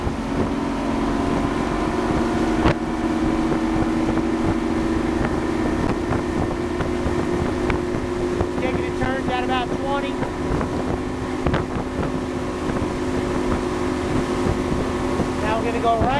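A 2003 Sea Fox 257 WA motorboat cruising on open water, with a steady engine drone and hull rush under constant wind buffeting on the microphone, continuous throughout.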